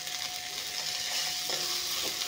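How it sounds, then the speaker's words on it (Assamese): Panch phoron spices sizzle in leftover fish-frying oil with a fish head, being stirred for a lemon fish curry. A continuous close-up frying hiss carries a few scraping stirs and no speech. "এইখিনি পাঁচফোৰণখিনি মাছৰ মাথাই দি ধুনীয়াকৈ অলপমান ভাজি ল'ম"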